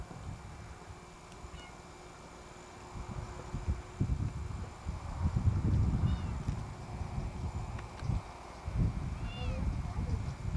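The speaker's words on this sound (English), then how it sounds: "Very courageous cat here." A cat perched high up at a scenic overlook gives a couple of faint meows, heard under people talking and outdoor wind noise.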